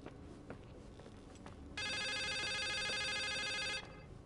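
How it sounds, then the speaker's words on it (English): A phone rings steadily for about two seconds inside the video game The Suicide of Rachel Foster, loud and sustained over quiet ambient room tone. "What a damn phone."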